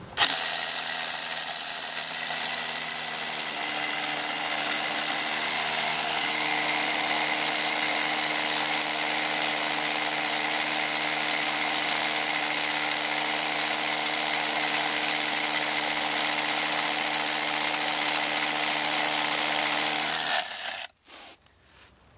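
A DeWalt DCH273 18V brushless cordless SDS Plus rotary hammer drills a 22mm hole, running as one loud continuous hammering whine for about twenty seconds before stopping abruptly.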